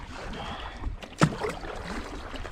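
A canoe paddles across a windy lake, with steady wind rumble and a brief splash of the paddle stroke standing out near the middle.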